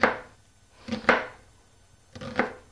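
A knife slices string beans into thirds on a cutting board: three crisp chops in an uneven rhythm, close and clear, with no talking.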